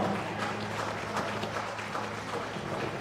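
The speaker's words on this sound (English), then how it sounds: "Another round of applause for John." Dinner guests applaud at a Ghana independence day dinner and awards event, a moderate round of clapping from the room over a steady low hum, fairly soft and even.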